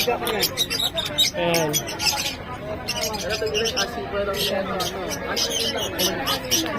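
Caged African lovebirds chirp and tweet steadily in the background, close by, while people talk over them throughout.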